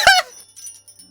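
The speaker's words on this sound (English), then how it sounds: "All I hear is my bell." A video game bell rings in one short bright burst, a stack of clear ringing tones at the start, then fades into faint, scattered game sounds.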